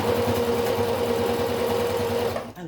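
A sewing machine runs continuously at a steady, loud hum, close to the listener, then stops abruptly near the end with no talking over it.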